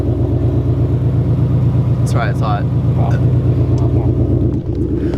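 A bagged Subaru WRX's engine idles with a deep, throbbing exhaust rumble up close while people talk over it.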